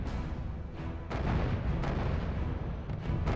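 Artillery firing in the real-time strategy game R.U.S.E. as dense, continuous rumbling booms and blasts that overlap into a steady roar, with a few sharper bursts standing out.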